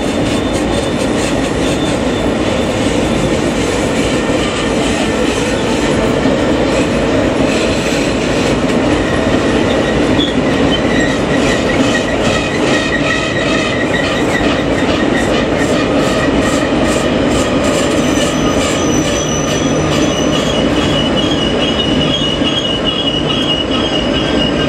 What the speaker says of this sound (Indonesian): Tarik depan dan belakang ya, lokomotif Dongfeng.